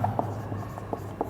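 Pen or chalk strokes during a biology lesson on the lymphatic and blood vascular systems, several short scratchy marks spaced irregularly over a low steady hum, fairly faint and close, with no talking.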